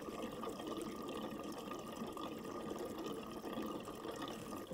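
Gasoline trickling steadily into the fuel tank of a 1929 Ford Model A Roadster, a continuous soft liquid pour heard close by and alone, with no talk over it.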